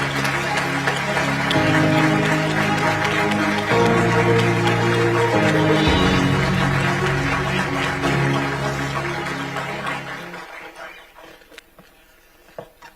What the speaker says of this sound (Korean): 여러분, 이재명 대통령님을 뜨거운 박수로 맞아주시기 바랍니다.